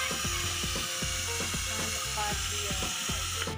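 Drilling on a motorcycle clutch part during a slipping-clutch repair: a steady whining drill with repeated rhythmic grinding pulses and ratcheting bites, loud and close, with no talking.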